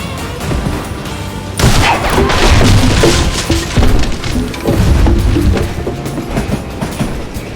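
Loud rumbling of a moving train in the video game Call of Juarez: Gunslinger, with rattling, clattering wheels and a sudden crashing burst partway through, continuous throughout.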